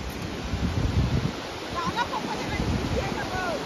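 Sea waves washing onto the shore at Malvan beach, a broad rushing surge with wind buffeting the microphone, a few faint high chirps in the background.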